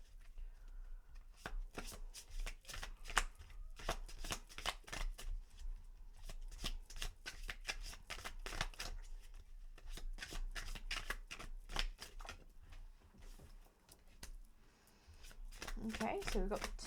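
Tarot cards being shuffled in a steady run of crisp riffles and flicks, close and fairly quiet, with a voice speaking over parts of it.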